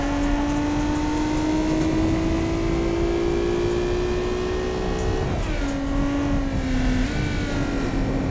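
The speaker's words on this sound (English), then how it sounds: "the tire's all squealing away" A minivan's tires squeal in a steady, loud whine under the drone of the engine in the Automation car tycoon game, the pitch slowly rising, then dipping and resettling near the end.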